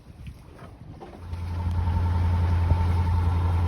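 A sailboat's engine drones steadily as it motors toward port, starting quiet and building to a constant low hum, with faint water and hull noise around it.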